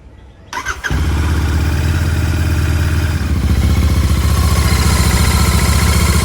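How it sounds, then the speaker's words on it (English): A Royal Enfield Interceptor 650 motorcycle on its center stand starts up with a brief crank, then settles into a loud, steady, close idle with an even parallel-twin throb that continues throughout. "we turn on the engine for 2 minutes according to the instructions"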